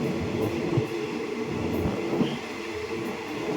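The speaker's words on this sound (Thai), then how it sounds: "วันนี้ก็พากันมานั่งรถไฟ เที่ยวนะครับบันไดม้านะครับ" Passenger train on a family sightseeing ride at Pak Chong, Thailand, rumbling steadily from inside the carriage, with a constant low roar of wheels and faint squeaks and clatter throughout, no voices.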